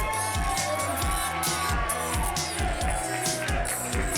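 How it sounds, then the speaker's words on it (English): A wrestling crowd at the Bronx Brewery cheers and chants for wrestler Edith Surreal during her entrance, a loud, packed roar over thumping, steadily pulsing music. "you hear the crowd here in the Bronx Brewery with chants of Edith"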